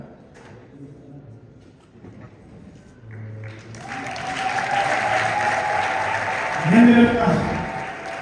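Loud applause and cheering from a wedding crowd at a Rwandan dowry ceremony swell up after a few seconds of talk and hold steady, with a shrill ululating cry rising near the end over continuous noise.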